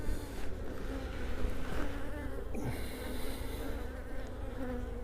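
A dense, steady droning hum of many honeybees swarming close by at an open styrofoam hive, continuous throughout with no voices.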